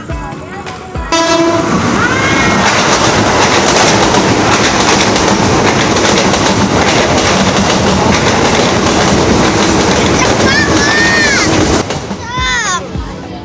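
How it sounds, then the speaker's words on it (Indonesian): A loud train rumbles past on the rails at Tebet station in Jakarta, with steady clatter and horn-like squeal tones throughout; it cuts off abruptly near the end as faint voices react. "Mana keretanya? Mana keretanya?"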